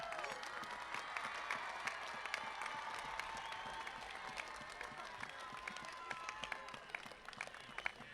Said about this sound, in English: Let's give one more applause for all of your loved ones in the audience